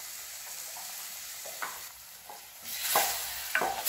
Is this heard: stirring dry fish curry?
yes